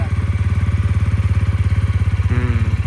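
TVS Ronin motorcycle engine running right after start, a loud close steady thumping beat at idle with a slight rise in revs near the end, no talking.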